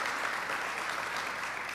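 Soft, steady applause from an audience at a New York governor's announcement event, a continuous even patter heard from a distance with no talk over it.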